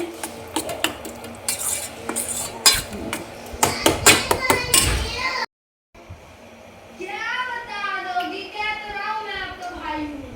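A spoon scrapes and clinks against a dish while a child's food is mixed, a run of sharp metallic taps and stirring for several seconds, then a brief gap before a voice and other talk take over.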